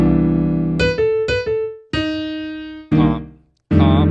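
Solo jazz piano plays a tune, the right hand dropping down to comp chords beneath its own melody: a few struck, ringing chords and notes separated by brief gaps, loud and close with no talking.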